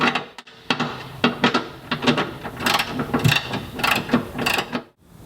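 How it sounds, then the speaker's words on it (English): A ratchet tightens the fuel tank guard bolts on a Land Rover Defender Puma, making rapid close clicking bursts in an uneven rhythm with short pauses and no talk. "We're going to restart these 2 front bolts. Then get that ratchet to work."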